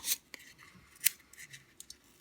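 The paper facing is torn and peeled off a sheet of foam board by hand. Short, close ripping strokes come in a few separate bursts with quiet gaps between them.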